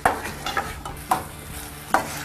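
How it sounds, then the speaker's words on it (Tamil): Chopped green chillies fry in a pan with a soft continuous sizzle while a spoon stirs and scrapes in four or five sharp, close, irregular strokes, with no talk. "அடுத்து நம்ம வந்து இப்போது நறுக்கிய மிளகாய் போட போகிறோம்"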